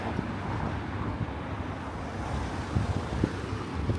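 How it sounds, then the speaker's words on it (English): Steady wind rushing outdoors on the Amthoutse Heide heathland in Belgium, a broad continuous roar buffeting the microphone with occasional low gusts and thumps. "And it's pretty windy."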